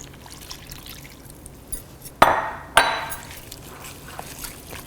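A cup of water is poured into a duck marinade of spices in two short splashy bursts close together, with quiet room noise before and after.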